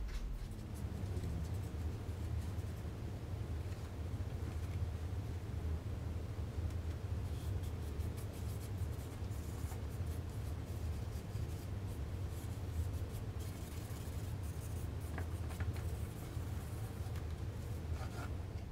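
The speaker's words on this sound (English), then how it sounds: "I'm going to just go ahead and pull that out of the way using the brush" Soft brush scrubbing weathering chalk off the wing of a HobbyKing 1875mm B-17 model, a steady quiet rubbing hiss over a low background hum, continuous with no talk.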